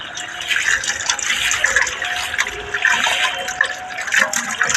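Steady, loud splashing and rushing water as rohu fish are lifted from a farm pond, a dense continuous wash of churning water with no breaks.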